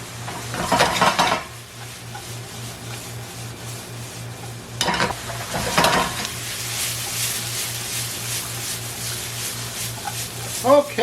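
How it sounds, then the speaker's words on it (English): Onion sautéing in a pan for Greek pastitsio, a soft sizzle running throughout with scrapes and clinks of a utensil stirring against the pan in bursts near the start and middle; a steady low hum sits underneath. "First I add the onion. Get that sauteing for a couple of minutes."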